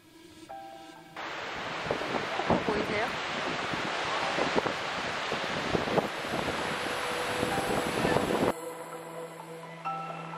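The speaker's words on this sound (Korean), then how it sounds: "바람도 엄청 불고." Strong, bitterly cold wind blows at Gullfoss waterfall in Iceland's Golden Circle, a loud, sustained roar buffeting the microphone for most of the stretch before easing slightly near the end.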